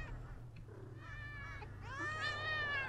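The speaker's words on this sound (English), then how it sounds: "There's lots of cats!" Several cats meow in the video game Thirty Flights of Loving, high drawn-out cries that overlap and grow louder and more frequent toward the end, over a steady low electronic hum.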